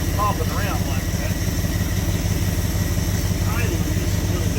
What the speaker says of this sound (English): Idling just a little bit fast.